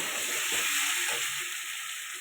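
Potatoes being sautéed in a pan make a steady, close sizzle with faint stirring scrapes, in a short burst with no talking.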